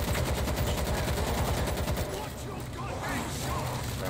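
Rapid automatic gunfire from the World War Z video game, a dense continuous burst that fills the first two seconds, then quieter chaotic combat noise and scattered shots with talk faintly underneath.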